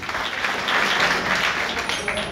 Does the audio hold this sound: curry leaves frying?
no